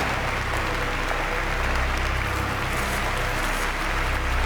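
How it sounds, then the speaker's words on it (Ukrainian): Steady applause from a crowd fills the scene in the video game Virginia, a dense, continuous clapping that stays loud and even throughout with no voices over it. "Аплодисмент."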